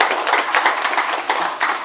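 An audience claps loudly and steadily at a lamp-lighting ceremony marking the end of a 21-day silent meditation at a pyramid anniversary event, a dense continuous patter of many hands close by.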